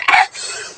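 A single sharp cough from someone cooking chicken and pork sinigang with pechay, a short loud burst followed by a quieter fading tail.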